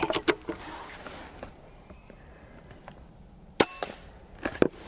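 Benjamin Marauder Woods Walker air rifle firing outdoors with sharp, quiet cracks, several short snaps scattered over a soft background hiss.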